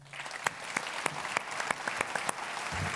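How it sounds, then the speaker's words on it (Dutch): A studio audience applauds the winner of the Silver Camera award, a moderate, steady patter of many hands with a few sharper nearby claps standing out. "een applaus voor de winnaar van de zilveren camera,"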